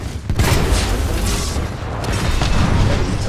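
A Titan blowing up in a Titanfall 2 match, with a heavy explosion boom that rolls into a continuous, loud rumble of battle noise.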